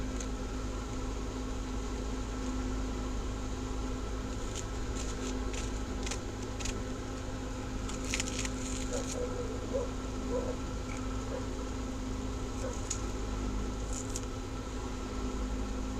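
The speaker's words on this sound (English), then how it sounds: "Got that fan going. I probably should have had it off. Making some noise in here." An electric fan runs in a greenhouse during cast-iron cooking on a Coleman stove, a steady, fairly loud whirring hum holding throughout with a few soft clicks and rustles on top.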